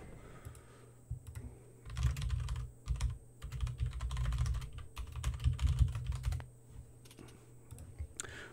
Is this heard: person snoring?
no